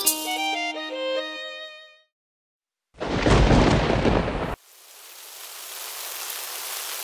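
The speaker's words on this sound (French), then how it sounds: "Oh, il pleut." Music plays and fades to silence, then a burst of heavy rain roars loudly before shifting into a steady, softer hiss of rainfall.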